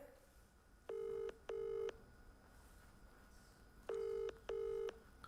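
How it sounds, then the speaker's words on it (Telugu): Telephone ringback tone on a call to a phone, two double rings separated by a pause, clear and steady over faint background hiss. "కుమార్ ఆంటీ ఫోన్ రింగ్ అవుతుంది."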